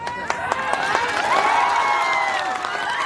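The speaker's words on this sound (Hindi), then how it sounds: "ताली तो और कुलकुली बड़ी बज रहा है आप लोगों का।" A rally crowd claps and ululates loudly and close, a dense wash of cheering with scattered hand claps and a rising trilled ululation through the middle.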